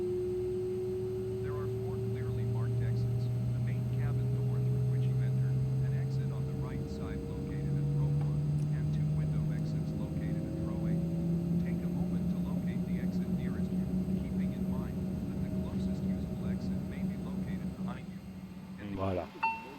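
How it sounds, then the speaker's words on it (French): An Embraer 135 jet engine spools up just after start, a steady rising whine with low rumbling hum that holds loud and continuous throughout, with faint clinks and cabin noises in the background. "On entend le moteur qui démarre."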